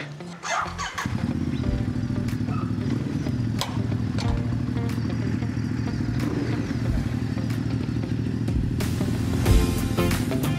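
A Vespa 946 Christian Dior scooter starts up and rides off on an off-road track, its engine putting out a steady, close buzzing drone with scattered clatter and rattles over the top.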